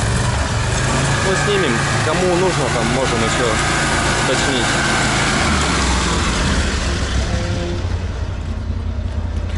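A Borus Extreme all-terrain vehicle's engine drones steadily in first gear, loud and close from inside the cab, while someone talks over it.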